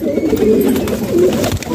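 Pigeons coo in low, throaty, rolling phrases, a steady close murmur of several birds calling over one another as they walk about below the rooftop loft.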